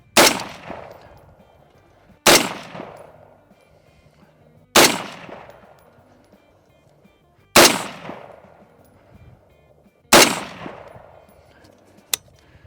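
Five loud rifle shots through a Christensen Arms barrel firing Winchester M193 55 grain ammunition, evenly spaced a few seconds apart outdoors, each a sharp crack with a decaying echo.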